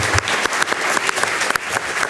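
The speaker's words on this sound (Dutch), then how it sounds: "Mag ik een hartelijk applaus voor Bijou?" Audience applause at a public climate debate on water pollution, a steady dense clapping from a hall crowd, fairly loud and continuous with no talking.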